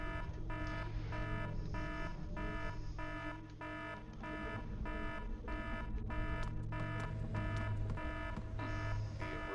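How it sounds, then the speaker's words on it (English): An emergency alarm in the horror video game Illbleed sounds as a rapid, regular electronic beeping with a steady pulsing rhythm. It carries on throughout at a fairly even loudness over a low background hum. "The emergency alarm is active."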